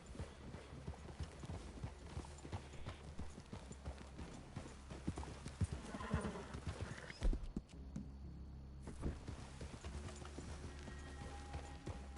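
Horses walk along with hooves clip-clopping in a steady, uneven rhythm, fairly faint against outdoor background noise, with a brief louder knock partway through.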